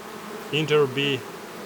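Bees buzz at a Ukrainian beehive in a short nearby burst of two or three humming swells over a quiet background, with no talking.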